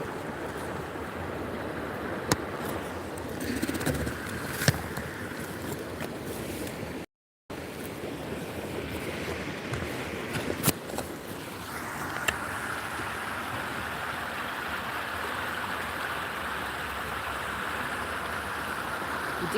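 A river flows past trees along its bank, a steady broadband rush of moving water mixed with wind noise, constant across the stretch with a brief dropout partway and no talk.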